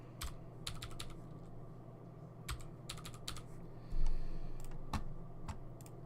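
Typing on a computer keyboard at a desk: scattered clusters of crisp key clicks, some in quick bursts, fairly close and quiet against a soft room hum, with no talking.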